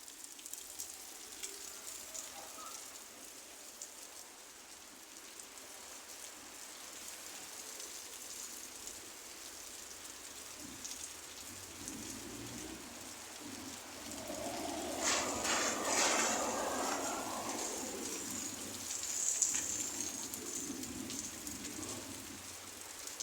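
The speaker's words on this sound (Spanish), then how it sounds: "se ve un poco negro el cielo y el viento está fuerte" Steady rain hisses outside in stormy weather with strong wind, a continuous wash of noise that swells louder partway through before easing slightly.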